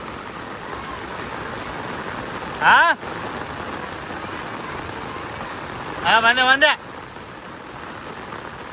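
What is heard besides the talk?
heavy rain falling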